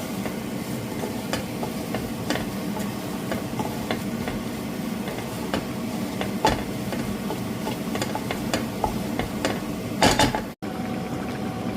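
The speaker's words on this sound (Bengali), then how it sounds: "একটু নাড়াচাড়া করে নিচ্ছি।" Spiced fish curry masala of coriander, cumin, garam masala and chili powder stirred in a pan, a steady low sizzle and bubble with repeated soft scraping clicks of the spoon, close and continuous, no talk.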